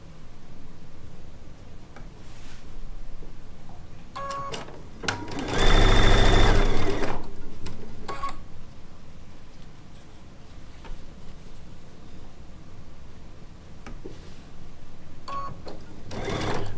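A sewing machine stitches charm pack fabric squares for a disappearing four patch quilt, running in a few short bursts with a loud sustained run near the middle, close and steady with soft handling noise between.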